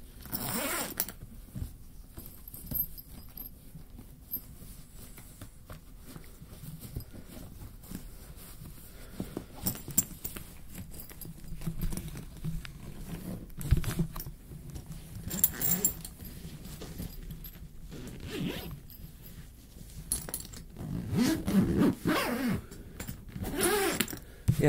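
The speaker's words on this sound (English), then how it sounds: "I think I forgot to zip up the" Zipper on a brand-new guitar case being pulled shut, a long stretch of scratchy, intermittent rasping with small clicks and handling noise, fairly close and rising in loudness toward the end, with no talking.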